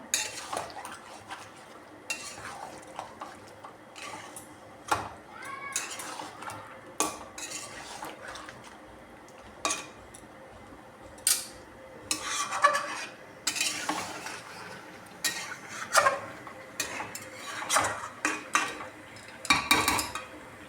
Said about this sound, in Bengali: আস্তে আস্তে নাড়িয়ে দেবো যাতে না গোটা গোটা থাকে দুধটা